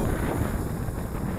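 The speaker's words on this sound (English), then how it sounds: "But even on this windy day" Wind buffets a microphone outdoors during a drone flight, with a steady, rumbling roar, loud and close throughout.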